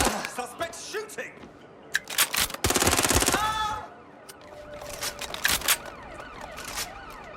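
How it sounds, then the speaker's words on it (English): Video game gunfire in Watch Dogs Legion: scattered shots, then a sustained loud automatic burst and more sporadic bursts, with voices shouting in between. "Shots fired! Suspect shooting!"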